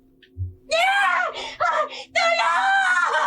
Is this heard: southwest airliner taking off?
no